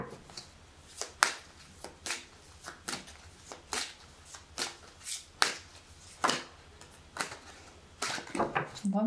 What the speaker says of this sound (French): J'ai vraiment du mal à battre les cartes